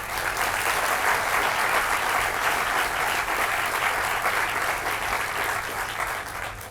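A seated audience at a panel discussion on consciousness applauds to welcome the panel, a dense, steady wash of clapping that holds loud and even for several seconds and fades slightly at the end.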